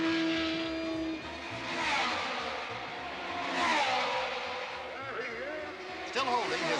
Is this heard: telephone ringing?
no